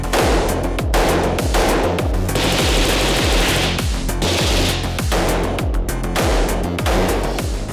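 Guns fired on a SIG SAUER shooting range, a loud close run of rapid, evenly spaced shots with ringing echoes, repeating for several seconds without pause.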